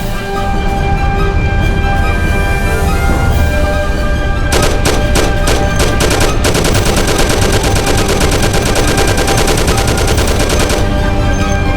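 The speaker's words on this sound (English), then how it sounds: "you and Sam shoot them" Gunfire rings out during a shootout in the Mafia game, with sustained rapid automatic bursts over a loud background of music and effects, close and dense, starting after a few seconds and continuing to the end.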